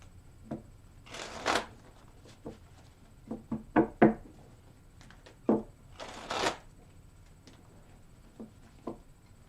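Cards being shuffled in several bursts of riffling and flicking, with softer taps and knocks between them, fairly close and otherwise quiet.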